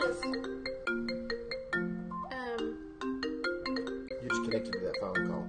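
A mobile phone ringtone plays a bright, chiming melody of repeated notes, loud and close, carrying on steadily with no voices over it.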